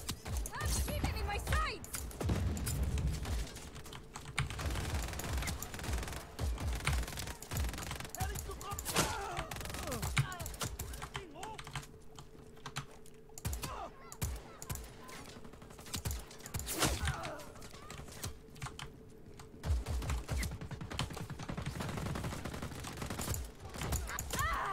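Mine launcher in Just Cause 4 fires amid a chaotic firefight, with repeated sharp bursts and crashing impacts over a steady rumbling game soundscape, some speech mixed in.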